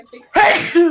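A single sharp, close sneeze bursting out loudly right after a few quiet spoken words at a tabletop game session.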